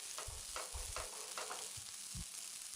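Egg ukkuru with chopped coriander frying in a pan on the stove, stirred in short bursts of scraping over a steady sizzle, close and fairly loud with no talking.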